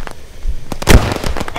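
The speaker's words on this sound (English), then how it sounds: "Why did you throw a grenade at me?" A single grenade explosion in the military shooter Squad, a sharp loud blast near the middle preceded by smaller pops and followed by scattered crackling.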